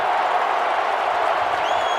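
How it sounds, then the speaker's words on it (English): A roaring stadium crowd cheers at the 2023 Oklahoma vs. Texas college football game, dense and continuous at full volume. "Listen to the OU crowd."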